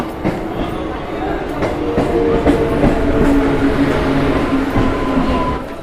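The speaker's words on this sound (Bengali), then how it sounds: "এই ট্রেন ঢুকে গিয়েছে দেখতে পাচ্ছ" A train pulls into a station with a steady, loud rumble and clatter of wheels on rails, a faint squeal running through it and background voices mixed in.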